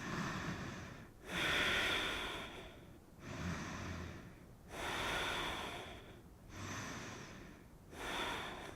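Slow, controlled nasal breathing during a yoga session: about four full breath cycles with long, airy inhales and exhales in a calm rhythm, close and quiet, with no talking.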